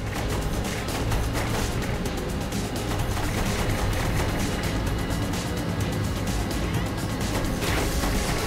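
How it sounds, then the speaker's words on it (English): Rapid, continuous bursts of automatic gunfire from Saints Row 3, dense and loud throughout, mixed with crashing impacts and mechanical clatter. "Use the machine gun then, not the cannon."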